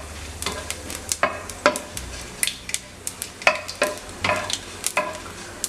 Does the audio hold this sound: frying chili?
yes